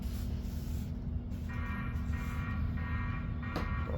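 Spray lubricant hisses steadily onto a gas airsoft magazine being repaired, a continuous close hiss with intermittent faint mechanical tones layered over it.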